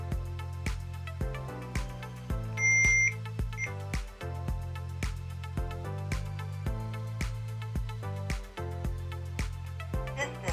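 A Hikvision AX Pro wireless alarm system sounds a steady series of short arming beeps in a regular rhythm, close and clear, with one brief higher double tone partway through.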